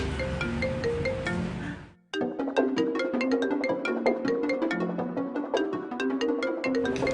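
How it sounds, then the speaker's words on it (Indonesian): A mobile phone plays a melodic electronic ringtone for an incoming call, steady and fairly loud. It runs continuously with only a brief break near the start, and no one speaks. "itu ada telepon kok nggak diangkat sih?"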